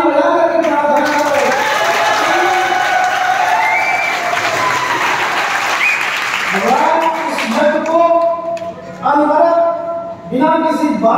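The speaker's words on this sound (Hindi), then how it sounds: "भगवान से सभी लोग एक बार जोरदार प्रार्थना करो, ताली बजा करके प्रार्थना करो।" A classroom claps during a prayer, a loud sustained wash of clapping and voices that fades into people speaking and calling out toward the end.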